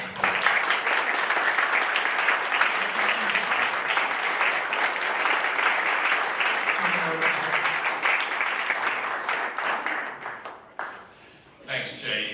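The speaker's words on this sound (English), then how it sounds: "so let's give them a good round of applause." An audience applauds six candidates for the Arlington County Board after a debate, sustained dense clapping that fills the room before thinning out and tapering near the end.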